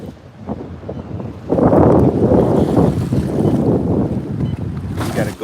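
Wind gusting over a lake from a bass fishing boat, loud buffeting rumble against the microphone that rises sharply after a quieter start, with brief talk near the beginning.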